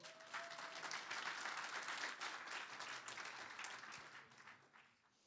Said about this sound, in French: Une bonne main d'applaudissements, s'il vous plaît.